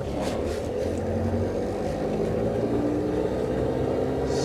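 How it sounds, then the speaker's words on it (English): Used 4x4 on a test drive, its gearbox whining between the input shaft and cluster gear, a steady close tonal whine over a constant engine and road drone with no talking. "the whine we have here is between the input shaft and the cluster gear"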